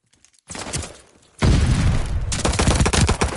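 Rapid bursts of automatic gunfire in a team shooter video game match, a short volley followed by heavy sustained firing at close range, loud and dense.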